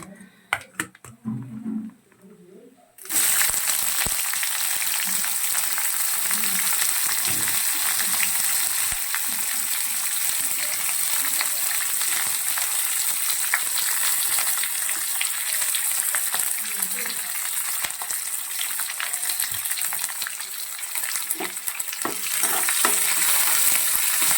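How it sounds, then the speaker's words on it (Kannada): Chopped onions frying in oil in a pan for bisi bele bath, a loud continuous sizzle with scraping stir strokes throughout, starting after a few seconds of quieter kitchen handling. "ಈರುಳ್ಳಿ ಒಂದು ಸ್ವಲ್ಪ ಗೋಲ್ಡನ್ ಕಲರ್ ಬರೋ ತನಕ ಒಂಚೂರು ಫ್ರೈ ಮಾಡ್ಕೊಳ್ಳೋಣ"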